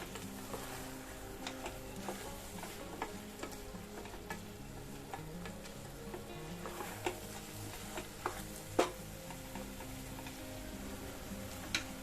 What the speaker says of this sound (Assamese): দি মই গোটেইখিনি আকৌ এবাৰ লৰাই দিলোঁ।